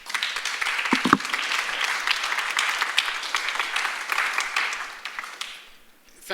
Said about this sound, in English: So a big round of applause for Adam Zamoyski.